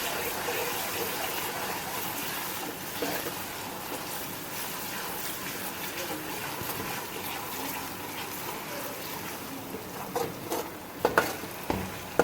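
Onion with ginger garlic paste frying in a pan for a curry pakora recipe, a steady loud sizzle with stirring and a few sharp clatters near the end.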